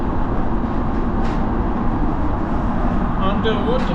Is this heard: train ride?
yes